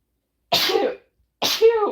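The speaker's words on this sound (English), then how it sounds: "Oh, excuse me as I sneeze." A sharp, close sneeze, then after a brief pause a second burst that trails into a short voiced exclamation.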